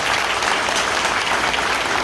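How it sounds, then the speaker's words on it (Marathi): Steady, dense applause from a large political rally audience in Dombivli, honouring five newly elected municipal councillors; continuous clapping fills the whole stretch with no speech over it. "त्यामुळे एकदा त्यांच्यासाठी जोरात टाळ्या वाजवा."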